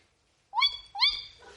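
A person imitates a tawny owl with two quick hooting whistles, rising then wavering, close and fairly clear against silence.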